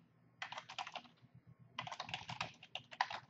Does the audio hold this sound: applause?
no